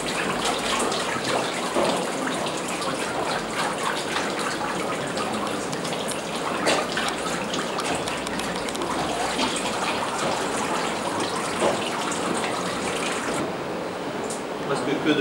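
Water sloshing and splashing steadily as a paper mould is shaken in a vat of pulp at a traditional paper mill, a continuous broadband wash with frequent drips and small splashes close by, with voices talking faintly over it.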